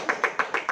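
Classmates in a high school classroom clap for a group representative, giving five evenly spaced claps that ring fairly close and moderate in level over a quiet room.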